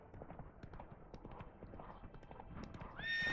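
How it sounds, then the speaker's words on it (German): Horse hooves clip-clop in a steady rhythm as a horse is ridden cross-country in The Witcher 3, fairly quiet and continuous, with a brief whinny or louder rise near the end. "Oh, jetzt reiten wir hier querfeld ein."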